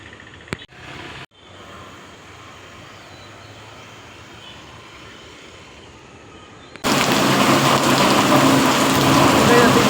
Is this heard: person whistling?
no